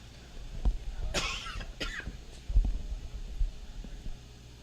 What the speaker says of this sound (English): I'm coughing on hot dog.